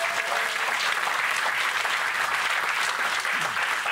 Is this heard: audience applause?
yes